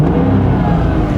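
Close, loud and steady, a Porsche Boxster engine drones with a rough, raspy exhaust note that suggests a blowing leak, heard alone for a brief moment.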